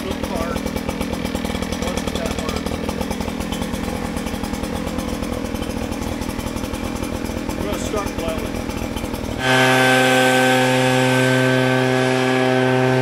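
A primed gas-powered leaf blower with its choke set cranks and churns roughly, then abruptly catches and settles into a loud, steady high-pitched engine whine for the final few seconds.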